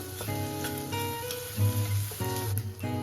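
Garlic paste sautés in a pan with a soft, continuous sizzle and faint crackle, sitting under steady tonal background music throughout.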